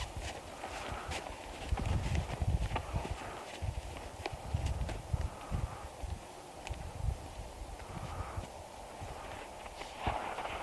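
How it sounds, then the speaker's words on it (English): A ridden horse moves at a walk on soft ground during a horsemanship demonstration, its hoofbeats landing in a loose, uneven rhythm, fairly close but muted, with faint rustling between steps. "I'm going to show you guys a walk, a trot, a rising trot, and a canter"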